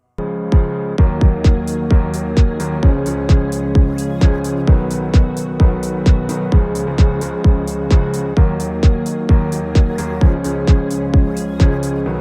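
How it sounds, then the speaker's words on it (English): A full song mix plays with a synth, other instruments and a punchy kick drum thumping in a steady regular beat over sustained chords, loud and continuous throughout. "And everything together with the other instruments and the kick sounds like this."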